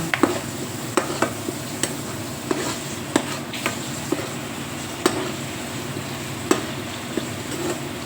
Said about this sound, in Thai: กุ้งแห้ง นี่ผัดให้เข้ากันนะคะ